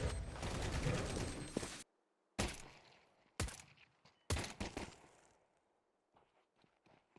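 Bursts of automatic gunfire spray in a competitive shooter match, a long loud volley followed by several sharp short bursts separated by near-silent gaps, then faint distant shots at the end.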